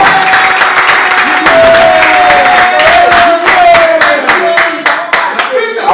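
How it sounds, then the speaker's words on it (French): An audience at a Paris press conference for Werrason applauds continuously, a dense, close burst of many hands clapping together. A sustained tone runs underneath the clapping. "je vous demanderai d'applaudir, une 5e fois, Monsieur Werason"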